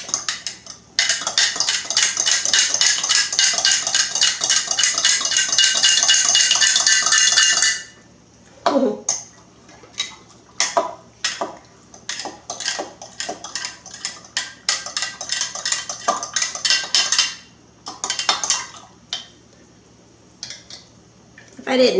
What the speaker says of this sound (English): I'll get a little fork to mix it.